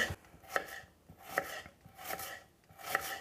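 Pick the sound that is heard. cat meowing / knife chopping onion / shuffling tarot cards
knife chopping onion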